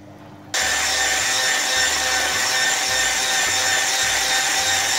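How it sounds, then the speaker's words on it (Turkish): An electric mixer suddenly switches on to whip pudding and runs with a loud, steady high-pitched whir, continuing without pause to the end. "Ocaktan alıp bunu mikserde çırpacağız."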